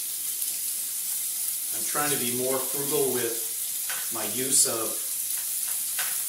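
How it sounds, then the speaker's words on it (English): Pork sizzles in a hot pan for surf and turf ramen, a constant frying crackle running beneath a person talking. "We're going to add our pork."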